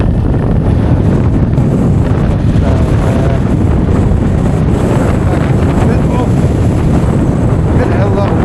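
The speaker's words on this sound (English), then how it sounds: "Get a hell of a lot of wind now" Strong wind at Mahon Falls roars and buffets the microphone continuously from start to finish, loud and close, with a broad rumbling gust noise and no clear speech over it.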